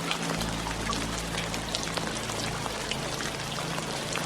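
Rain falls steadily with dense drops spattering on surfaces over a soft continuous wash, accompanied by a low sustained hum underneath, even and moderately quiet throughout with no voices.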